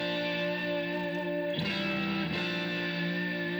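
A 1958 Fender Stratocaster electric guitar plays sustained chords processed with stereo imaging and EQ, ringing steadily with a chord change partway through, alone and with no talk.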